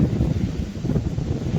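Strong wind buffets the microphone on an open beach along the coast between Easington and Spurn Point, a steady low roaring rumble with gusty fluctuations throughout and no voices.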